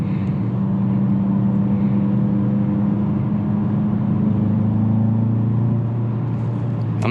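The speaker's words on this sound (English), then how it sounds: "I just want to rev it up and then slow back down." A 2019 Volkswagen Jetta GLI engine heard from inside the car, a sustained drone that climbs in pitch as it revs, then eases back down while the car slows.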